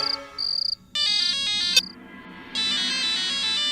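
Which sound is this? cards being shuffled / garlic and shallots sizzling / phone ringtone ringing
phone ringtone ringing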